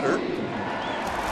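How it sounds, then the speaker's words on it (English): Crowd applause at a professional baseball game between Cleveland and Minnesota, a broad steady wash of clapping and cheering from a large stadium audience, continuous for the brief moment. "That's a nice applause here."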